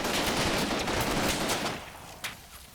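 Heavy machine gun fire in a video game, a dense continuous burst of rapid shots that cuts off near the end, leaving a faint tail and one last distant crack.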